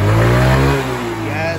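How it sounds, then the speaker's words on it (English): A motorcycle engine running just after being started outdoors, a loud, close, low rumbling drone that eases off slightly midway, with voices talking over it. "We got the bike started, man."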